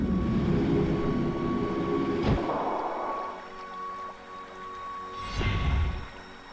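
A tram arrives in the video game The Dig, rumbling in with a low mechanical roar that fades, then a second swelling whoosh and rumble near the end.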